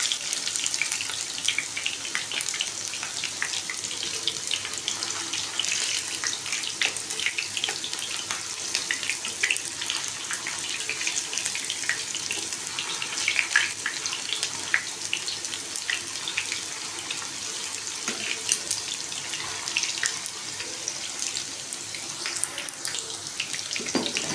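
Turkish kofta kebabs fry in a pan with a steady, hissing sizzle that crackles evenly at close range for over twenty seconds, with no voices over it.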